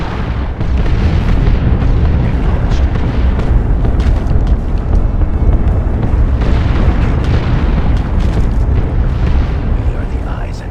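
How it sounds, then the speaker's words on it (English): Artillery shells slam down in the Warhammer 40,000 strategy game Dawn of War II: Chaos Rising, a dense, loud barrage of deep booms and rumbling blasts rolling continuously for about ten seconds. "Incoming artillery strike!"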